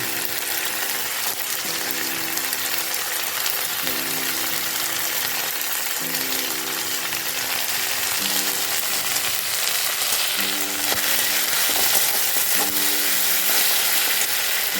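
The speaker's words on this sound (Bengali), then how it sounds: "এবার এটা আমি কাঁচা গন্ধ চলে যাওয়া পর্যন্ত ভাজবো।" Ginger garlic paste and tomato frying for a Bengali prawn malai curry, a steady loud sizzle running throughout with an occasional faint scrape, close and without speech.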